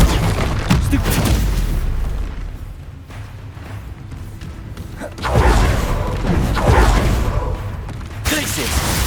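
Combat spells in Hogwarts Legacy, including a Stupefy cast, land as repeated heavy booms and whooshing blasts in a loud, busy fight.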